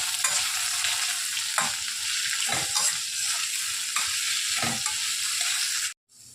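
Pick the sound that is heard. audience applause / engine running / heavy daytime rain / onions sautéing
onions sautéing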